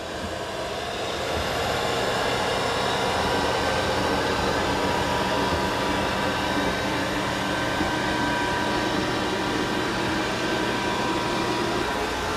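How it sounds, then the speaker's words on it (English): A Dreame X30 Ultra robot vacuum and mop runs with a constant, steady whirring hum, loud and close, unbroken for the whole stretch. "It's doing a good job of vacuuming and mopping at the same time."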